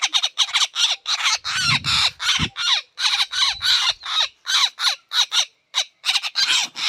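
A crow-like bird cries out in a long run of harsh, loud squawks, close and insistent, repeating in quick bursts with brief gaps, while a low rumble briefly sounds underneath.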